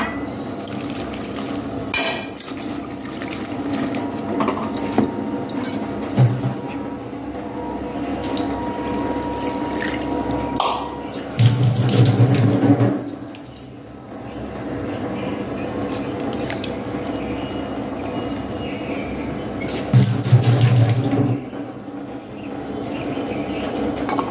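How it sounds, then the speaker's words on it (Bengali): Fish being rinsed for a rui fish curry under a running kitchen tap, a steady stream splashing into a sink with brief louder gushes and squishy handling, alone and close. "আমি মাছগুলো ধুয়ে নিচ্ছি।"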